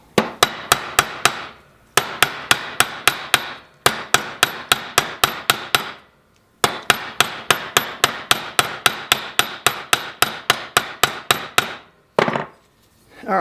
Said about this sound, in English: you want to kind of rotate it back and forth because you're trying to flatten the rivet out into the little countersink in the actual gas piston itself